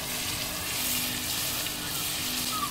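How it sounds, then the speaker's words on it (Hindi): Chicken pieces sizzle in a pan with butter and kasuri methi, a steady close frying crackle with a constant hiss throughout. "फिर इसी में चिकन डाल देंगे।"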